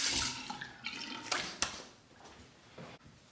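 Water splashes and runs at a bathroom sink as a face is rinsed after a shave with a Parker 97R razor, in several soft, uneven splashing bursts nearby.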